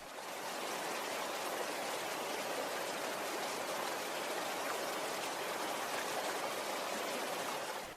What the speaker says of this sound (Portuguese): recebemos imagens do irmão João Balsem de uma cachoeira na região de Santa Maria de Jetibá